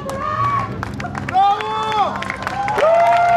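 Crowd applause at a rally awards ceremony, steady clapping and hubbub under a loud announcer speaking over it, with whistles and crowd noise.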